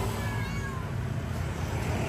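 A cat meowing faintly in an outdoor setting, thin high cries over a steady background hiss, with no talk during the sound.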